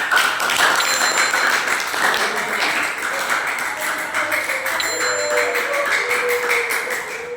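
A classroom group of students claps together in a steady, scattered round of applause that runs for several seconds at moderate loudness, with faint voices mixed in.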